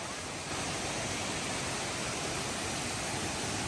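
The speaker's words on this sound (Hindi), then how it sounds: "हम लोग जो मेन झरना था वहां पहुंच चुके हैं" Main waterfall at a scenic spot in Purulia, a loud, steady broadband roar of falling water filling the whole stretch without breaks, close and continuous.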